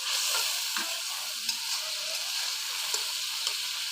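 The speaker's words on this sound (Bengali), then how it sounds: "চিংড়িগুলো একটু কষিয়ে নেওয়ার জন্য আমি অপেক্ষা করছি" Small fresh river shrimp frying in a pan, a steady close sizzle with occasional light stirring clicks, no voices.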